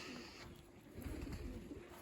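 Pigeons coo inside a pigeon loft during the moulting season, soft low rolling coos repeating faintly over a steady background hiss.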